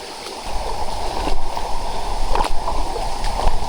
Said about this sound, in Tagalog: Umiinom ka dyan. Umiinom si Mr. Kilahi ng umaagos na tubig dito.